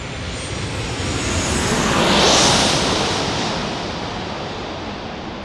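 An Alaska Airlines airplane passes at San Diego airport, a broad rushing roar that swells to a peak midway and then fades as it moves off, with no voices.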